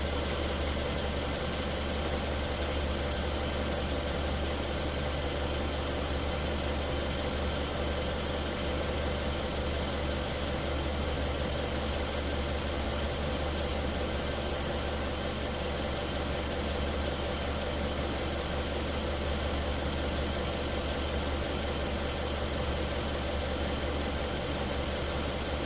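A Nissan Juke engine idles steadily for the whole stretch, an even, unchanging mechanical drone with no revving and no voices.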